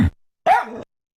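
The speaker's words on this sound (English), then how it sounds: "Dog." A single dog gives one short, clear bark, close and alone between moments of silence, with a faint trailing tail to the sound.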